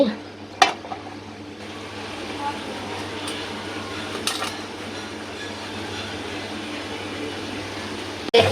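Fish sautéing in a frying pan with masala and tomato gives a steady close sizzle with a low hum beneath, broken by a few sharp stirring knocks and scrapes against the pan.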